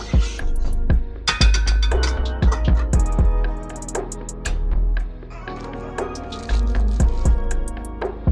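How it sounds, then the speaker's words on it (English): Butter is stirred into lo mein cooking in a pan: wet squishing and dripping sounds mix with repeated clinks of a utensil against the cookware, steady and close throughout. "And this is the amount of butter that I'm adding. And then just a little stir."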